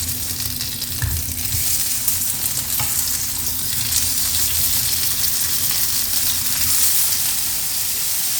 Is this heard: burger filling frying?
yes